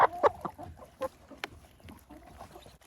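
Chickens cluck and scratch nearby while pecking at bread, with short irregular clucks and soft knocking sounds scattered across the clip at moderate volume.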